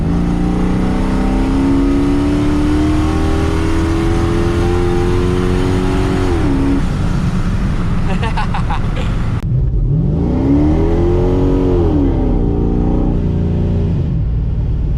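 Truck with a damaged 5.9 liter 360 Magnum engine revving, its loud rough roar rising and falling in two long throttle sweeps, close and continuous with a brief rattly stretch in between.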